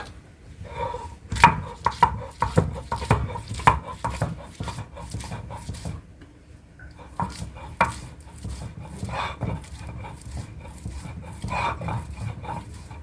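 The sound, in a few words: grinding garlic on a stone slab (pata)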